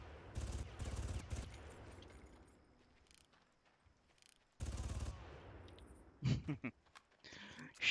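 Gunfire from the video game Far Cry: dense bursts of automatic fire, loud and close, pause for a few seconds, then return with another burst, followed by sharper scattered shots and sounds of action near the end.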